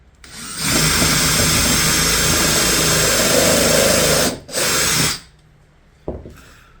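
A Dewalt drill drives screws into wood while assembling a wooden charging station, giving a loud sustained whirring buzz of about four seconds, a short second burst, then a quiet pause and a brief knock.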